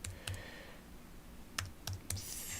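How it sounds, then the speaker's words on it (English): Soft clicks and taps of a computer keyboard being typed on, irregular and quiet, set against a faint steady background hiss with no voices. "I was typing something and I got sidetracked."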